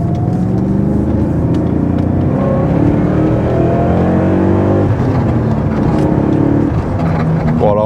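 A BMW 540i E39 with a V8 engine and manual gearbox accelerating, its loud engine note rising and climbing steadily through the gears from inside the car, a continuous deep drone with no talk.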